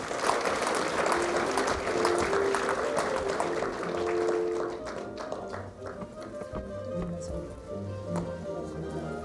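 Audience applause fills a film critics' award ceremony, a dense patter of clapping that thins and fades midway, followed by quieter room sound with a voice.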